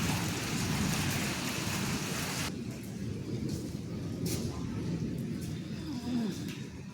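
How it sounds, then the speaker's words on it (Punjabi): Steady rain hissing down, heavier for the first couple of seconds and then settling into a softer, continuous patter. "ਮੀਂਹ ਪੈਣ ਨਾਲ ਰਾਹਤ ਮਿਲੂਗੀ"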